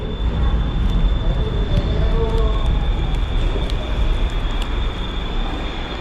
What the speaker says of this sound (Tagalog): nakasakay na po kami ng train na papunta na po kami ng sa Wori